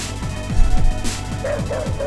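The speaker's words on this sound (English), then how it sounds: "I added dogs barking while you're running in the alleyway" Dogs bark in a rapid repeated run inside a video game's alleyway chase scene, short yips and bow-wows coming steadily over a constant low background hum, fairly close and moderately loud.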